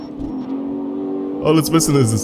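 A Mustang engine in the game CarX Street hums and rises in pitch, then snarls into a few sharp, louder revs at the end.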